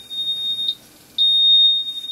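A vehicle engine control module emits a high electronic beep tone steadily, briefly cuts out, then resumes as a long continuous beep.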